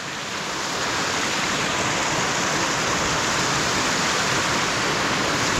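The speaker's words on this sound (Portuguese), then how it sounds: "ter uma cachoeira dessa aqui tão pertinho de você" A waterfall on a rural property in the countryside roars steadily from start to finish, a loud, dense and continuous rush of falling water with no talk over it.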